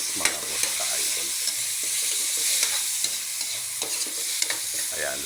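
Tomato being sautéed with bitwelas in a hot pan, steady close sizzling and frying with repeated scraping and stirring clatters throughout, no talking.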